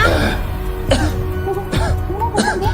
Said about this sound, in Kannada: ಇದ್ದಕ್ಕಿದ್ದಂಗೆ ಕೆಮ್ಮು ಬಂತು